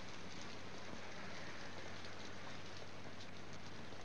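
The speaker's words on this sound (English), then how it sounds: "And it's raining pretty hard." Heavy rain pouring down steadily, a dense, loud, unbroken hiss of drops hitting surfaces, with no voices over it.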